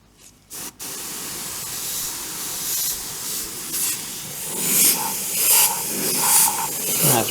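An airbrush or spray gun lays a second coat of paint on a 1/48 scale Timberwolf model, giving a steady close hiss that swells in short bursts after a brief pause at the start.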